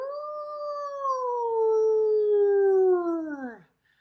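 A human voice imitates a wolf howl, one sustained tonal call that rises into a long held note and slides downward before cutting off, close and fairly loud.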